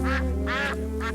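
Three clear duck quacks come in an uneven rhythm over a steady hum, from a children's storybook tape about a walk in the park to feed the ducks.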